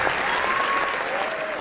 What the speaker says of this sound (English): I know the applause was very, very loud